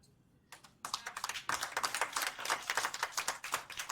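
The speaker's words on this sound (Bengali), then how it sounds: "এই হাততালি" Audience applause after a live Rabindranath Tagore song, beginning with a few scattered claps and then swelling into dense, sustained clapping from a crowd in the hall.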